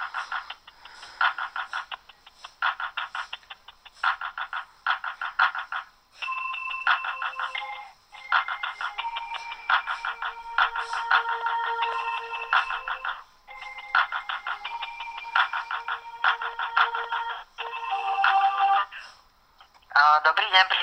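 A telephone ringing on the line during a call, heard as a long series of evenly spaced electronic ring bursts over about twenty seconds, ending in a short, different tone.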